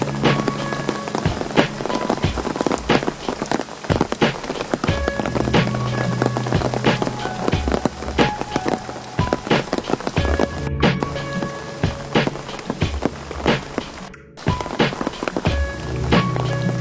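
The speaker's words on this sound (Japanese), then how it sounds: "これにわか雨っぽいですからね" A sudden rain shower falls on a hydrangea park, a steady dense patter of drops on leaves and surfaces close by, continuous throughout with no talking.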